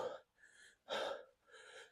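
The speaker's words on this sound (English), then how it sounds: "we'll do it while I'm out of breath" Breathless gasping after a round of boxing training: four heavy, close breaths alternating sharp inhales and rougher exhales in an uneven rhythm, with no words.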